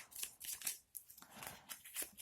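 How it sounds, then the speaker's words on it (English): Board game cards shuffled by hand during a solo tabletop session of Crown of Emara, a euro-style game: close, quiet riffling and papery flicks in quick bursts with short pauses, no talking. "So let's shuffle up these cards"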